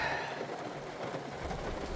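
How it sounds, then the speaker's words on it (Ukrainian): Steady rain falls on the Dniester river, a dense, even hiss of drops across the water that stays constant throughout with no voices. "Дощ на Дністрі."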